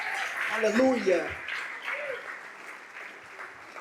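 A church congregation applauds, a soft, steady patter of clapping under a voice that speaks briefly at the start, fading lower toward the end.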